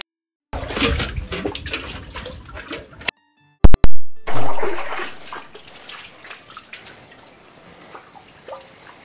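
Water is drawn from a village well in splashing, sloshing bursts, broken by a short pause with a few sharp knocks, then more pouring and trickling that fades gradually.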